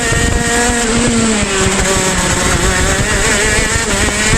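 Go-kart engine held under steady throttle through a corner, a loud, constant buzzing drone close by with a slight pitch rise and fall, running uninterrupted for the whole few seconds.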